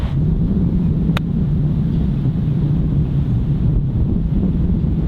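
Strong wind blows on a golf course, a loud, steady low rumble buffeting the microphone throughout with one brief sharp click.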